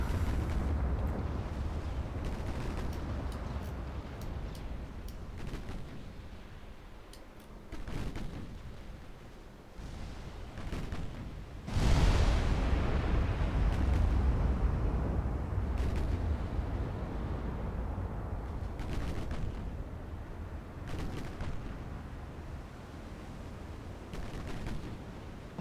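Heavy artillery shells fired and exploding in a grand strategy war video game set around Portugal, a continuous rumbling barrage with repeated booming blasts and one especially loud impact midway.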